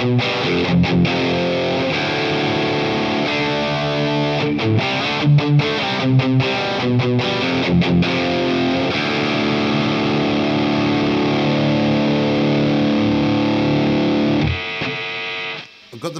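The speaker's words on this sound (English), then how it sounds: "Now I'm going to put the boost into the distortion." A Demon FX King of Drive pedal with its boost feeding into the distortion, producing a loud, saturated electric guitar tone that holds sustained chords with brief choppy stops before fading out near the end.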